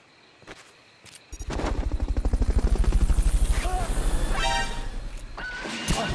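A helicopter in the video game Metal Gear Solid Peace Walker drones loudly with a rapid rotor chop that swells in, close and dominant, mixed with game effects.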